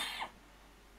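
A single short cough from a man, close and fairly quiet, fading quickly into low room hiss.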